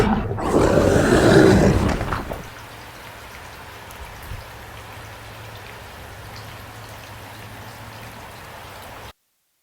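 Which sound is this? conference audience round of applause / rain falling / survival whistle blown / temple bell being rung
rain falling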